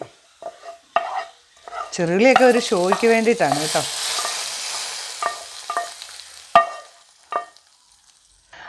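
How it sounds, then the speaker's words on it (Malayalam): Mustard seeds and curry leaves, fried in hot oil, are poured into a river-fish curry, and a loud hissing sizzle swells then fades. A person talks over and around it. "കടുകും കരിവേപ്പിലയൊക്കെ മൂത്തിട്ടുണ്ട് സ്റ്റൗവൊക്കെ ഓഫ് ചെയ്തു താ നമ്മുടെ കറിയിലേക്കൊന്ന് ഒഴിക്കാം"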